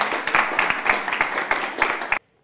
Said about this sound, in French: nous applaudissons nos orateurs